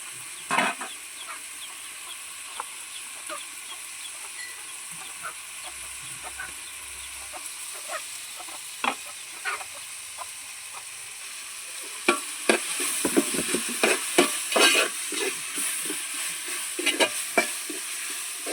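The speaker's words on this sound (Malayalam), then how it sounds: "ഇഞ്ചിയും വെളുത്തുള്ളിയും കുരുമുളകൊക്കെ ഉള്ള പേസ്റ്റ് അതിലേക്ക് ഇട്ട് കൊടുക്കാം" Crushed ginger, garlic and pepper paste sizzling in a pan for chicken curry, quiet frying at first, then louder as a spoon scrapes and stirs in busy, irregular clatters near the end.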